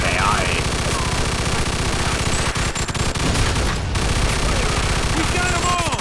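Heavy, continuous gunfire rattles through a shootout in the Mafia II video game, dense bursts with loud voices shouting over it.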